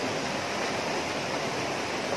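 A rocky mountain stream pours steadily over stones close by, a dense, even roar of rushing water with no breaks or speech.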